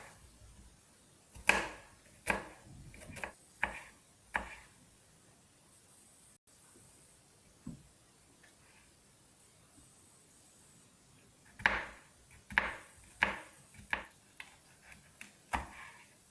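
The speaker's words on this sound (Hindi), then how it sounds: "तो अभी इन सब्जियों को हम काट लेते हैं" Vegetables being chopped with a knife on a board for a fried chana dal dish, a few sharp close knocks in quick bursts, then a pause and another burst of regular chops, with no talking.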